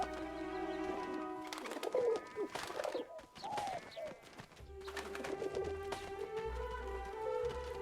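Pigeon cooing in the video game 11-11: Memories Retold, several soft, repeated low coos close by over quiet background music, with no talk.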